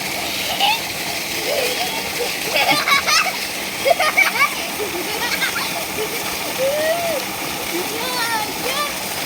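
Stream water flowing and splashing near a village bathing spot, a steady broadband rush with brief louder splashes, while children's voices chatter faintly in the background.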